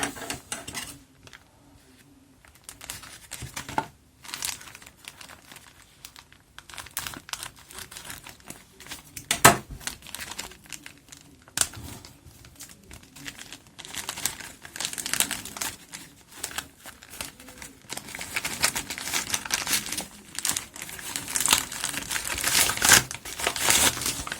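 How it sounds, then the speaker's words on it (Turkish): Bubble mailer package from an AliExpress order being opened by hand, with close crinkling and rustling of plastic that grows busier and louder toward the end, no talking. "Yine havalı poşette gelmiş."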